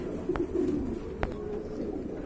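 Pigeons at a large loft farm selling paired birds, including racers, give low, steady cooing, with two sharp clicks or taps breaking in near the start and middle.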